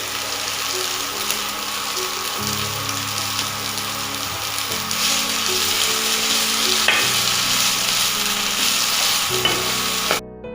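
Paneer ghee roast sizzling steadily in a pan while being stirred with added coriander leaves, a continuous loud frying hiss with scraping stir strokes throughout, no talk.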